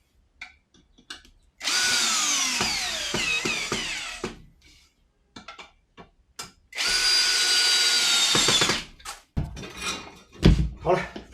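A power drill drives screws into a solar panel mount in two long, loud bursts with rising and falling motor whine, separated by short knocks and handling clatter, close up.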